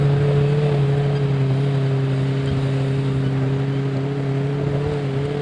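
A small Suzuki motorcycle engine labors steadily up a steep, rough hill in the Colorado fall, its droning hum holding a constant pitch close by with no voices over it.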